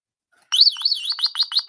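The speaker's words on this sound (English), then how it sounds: "I've got a tweeting birdie, which sounds more like a car alarm." A small tweeting bird toy gives a loud, shrill warbling siren-like chirp that rises and falls like a car alarm, with rapid pulsing beeps under it, starting abruptly and carrying on alone.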